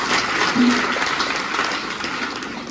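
Children applaud during a church mass at a parish, a steady broadband patter of many hands filling the space at even loudness, with a brief voice sound early on.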